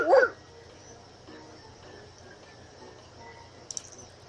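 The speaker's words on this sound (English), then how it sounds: "There's a puppy. It looks like a little husky." A single short puppy bark, a husky pup in The Sims 2, sounds loud and close at the very start, followed by quiet game ambience and a faint chirp near the end.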